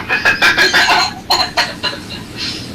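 A rooster clucks and squawks nearby in a series of loud, sharp calls, several quick bursts followed by a drawn-out cry.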